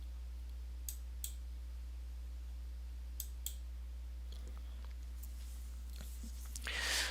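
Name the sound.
computer mouse clicking in CMMS software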